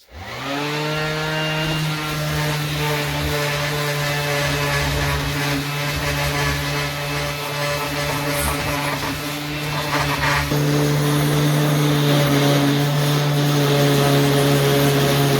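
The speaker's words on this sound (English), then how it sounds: "So I'm going to sand the bottom because it's kind of rough" A power sander works the rough bottom of a wooden piece. A loud, close, steady motor whine with a strong humming tone runs continuously, starting abruptly and shifting slightly in pitch partway through.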